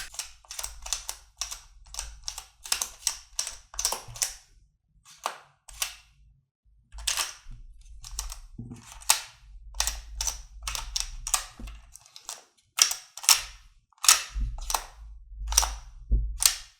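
Magnetic hexagon sliding-block puzzle pieces pushed into place, a fast irregular series of sharp plastic clicks and snaps, close and crisp, with brief pauses between bursts and no talk.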